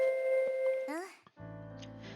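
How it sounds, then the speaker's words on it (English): A school chime rings at night in the Honkai Impact 3rd game, a short run of bright sustained bell tones that rise and break off before a second tonal phrase picks up, set against steady background music. "The school bell that would be in use tomorrow rang in the night."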